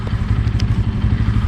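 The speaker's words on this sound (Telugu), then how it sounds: "సో ఇదనమాట మన బైక్ N160." A TVS Apache N160 motorcycle idles nearby on a road trip, a steady low, rumbling engine putter with a quick regular pulse and faint clattery ticks, heard alone.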